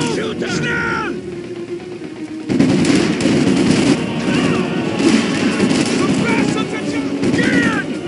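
Rapid machine-gun bursts and scattered gunshots ring out in a Company of Heroes 2 battle, loud and dense throughout, with shouted voice lines and combat chatter over the firing.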